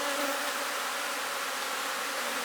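Honey bees cluster thickly inside a beehive cell builder, their dense, steady buzzing filling the space close up and continuous without pause.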